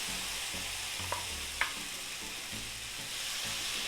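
Chopped tomatoes frying in a pot for a Thai coconut chicken curry, a soft steady sizzle with a couple of quick utensil knocks, fairly quiet and with no voices.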